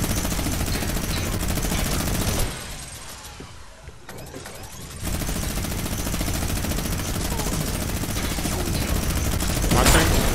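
Sniper fire in a shooter video game, coming from a mountain to the west, sits inside a loud, dense wash of noisy game sound. The wash dips briefly early on, then resumes, with a sharp crack near the end.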